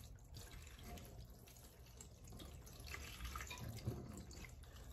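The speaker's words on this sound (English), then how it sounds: "I'm gonna pour the whole thing in here" Chicken broth pours into a cooking pot in a steady, soft liquid stream that rushes and splashes at low volume, with no talk over it.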